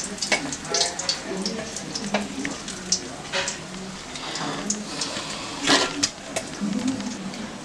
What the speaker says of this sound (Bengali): বন্ধুরা, আমি একে একে মাছগুলোকে সব ভেজে নিচ্ছি